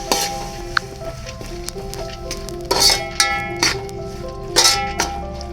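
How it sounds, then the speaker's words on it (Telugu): Washed moong dal is stirred in a cooking pot, with a few distinct spoon clinks and scrapes against the metal over a soft sizzle, close and unaccompanied by talk. "కడిగి పెట్టుకున్న పెసరపప్పుని వేసేసుకున్నాము దీని ఒకసారి మంచిగా కలిపెట్టుకోవాలి"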